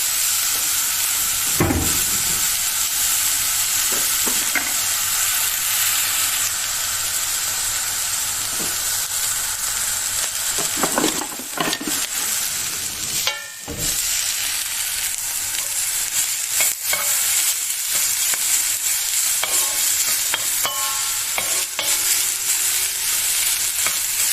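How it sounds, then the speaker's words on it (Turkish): Beef fat for sac kavurma sizzles in a hot pan, a steady loud frying hiss with occasional stirring scrapes and pops throughout. "İyice ısınan tavamıza şöyle kendi yağından bir miktar atalım ve yağının çıkmasını bekleyelim"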